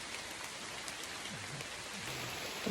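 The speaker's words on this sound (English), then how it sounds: "I'm not filming a lot because it's super, super rainy right now" Heavy rain falls steadily in a Costa Rica cloud forest, a dense, even hiss of drops hitting leaves and surfaces. It goes on without a break, with faint low calls beneath it.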